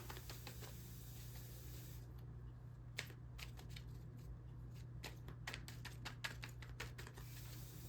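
Tarot cards being pulled from a deck and laid down, a run of soft papery flicks and slaps in uneven bursts, close and fairly quiet over a steady low hum.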